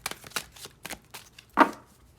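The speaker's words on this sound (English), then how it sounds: "And we shuffle them." Tarot cards shuffled by hand over a squeaky floor, with a run of soft, irregular riffling taps and one louder slap near the end, close and alone with no talking.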